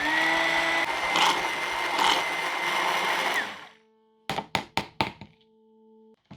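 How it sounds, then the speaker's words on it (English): A blender whirs loudly for about three seconds while blending Kenyan pili pili hot sauce, then cuts off, followed by several sharp knocks and taps. "And then using the hand blender or your regular blender,"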